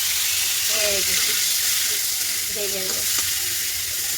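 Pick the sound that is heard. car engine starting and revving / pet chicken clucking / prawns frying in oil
prawns frying in oil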